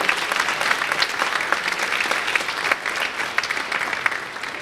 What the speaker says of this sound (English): Let's have a round of applause for the men's cross country team.